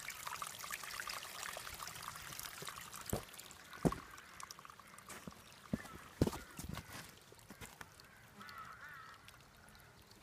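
Water pours steadily near Bharmani Mata temple in Bharmour, Chamba, Himachal Pradesh, a continuous outdoor splashing rush marked by scattered sharp drips and knocks, with no talk over it.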